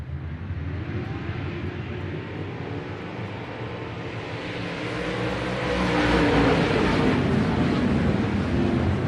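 Dirt track race cars at a Fairmont XR feature rolling toward the start, a dense, far-off engine rumble under wind noise that swells louder toward the end.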